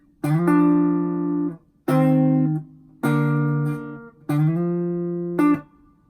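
Four sustained electric guitar two-note chords, each sliding into place and ringing for about a second, separated by brief pauses, played alone.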